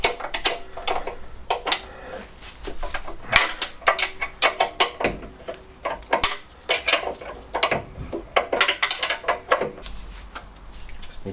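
A spanner works a bolt loose on the engine of a classic Fiat 500, giving a run of sharp metallic clicks, taps and clinks in irregular bursts, close up and fairly loud, with no talking.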